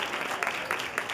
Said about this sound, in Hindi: हालेलुया, जोरदार ताली बजाएं इस खूबसूरत कलाम के लिए।